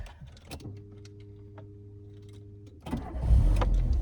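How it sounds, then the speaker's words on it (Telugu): A starter whirs briefly, then a Tata Indica V2 petrol car engine fires up and runs with a smooth, fairly quiet idle nearby. "దీని ఇంజన్ సౌండ్ వినండి."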